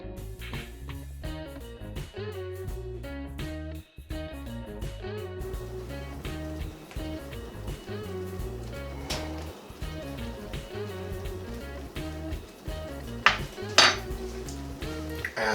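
Ground beef fat goes into a pan of refried beans, with busy clattering of utensils against cookware, scraping and clinking, a steady sizzle underneath, and a few sharper metallic knocks near the end.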